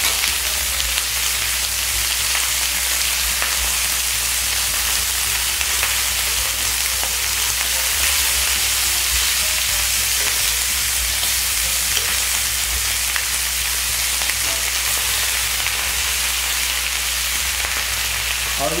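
Free-range chicken pieces pan-frying over medium heat for sesame-wine chicken give off a steady, dense sizzle that holds unbroken and close throughout, with no voices.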